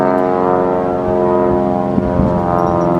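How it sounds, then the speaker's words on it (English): An airplane engine drones steadily and loudly throughout with a deep harmonic hum, continuous and unbroken, with no voices. "Airplane."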